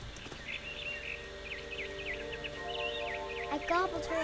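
Short repeated chirps from a bird in What Remains of Edith Finch, faint and high-pitched over a soft ambient hum, with a quick rising flurry of calls near the end.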